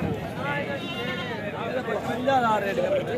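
A goat bleats at a livestock market in Punjab, Pakistan, its wavering cries rising over busy crowd chatter and a voice talking close by.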